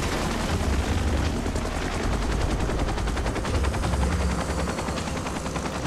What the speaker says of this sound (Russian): вот вертолет где-то включил